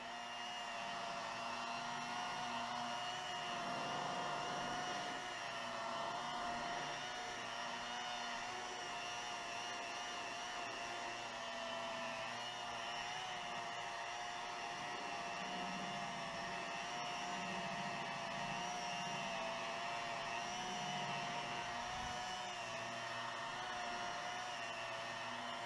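A car paint buffing machine with a black wool pad on a new paint job gives a steady, faint whirring hum that holds evenly for the whole stretch with no talking.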